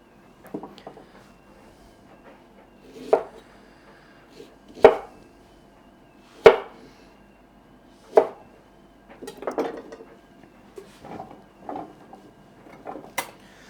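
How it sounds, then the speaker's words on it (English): A knife chops a peeled parsnip into chunks on a board, sharp isolated thuds spaced a second or two apart, close and clear in a quiet kitchen, with a few softer scraping clatters between. "I'll just cut these into pieces roughly the same size as the carrots"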